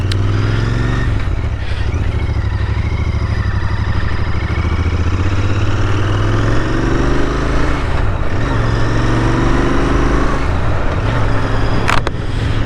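Royal Enfield Interceptor 650 motorcycle on a test ride, a constant loud engine drone with rising and falling pitch as it accelerates and shifts, heard up close alongside heavy wind rush.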